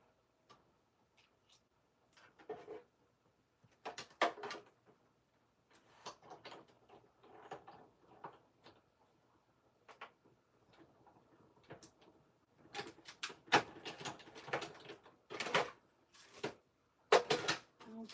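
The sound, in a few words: die cutting machine cutting card stock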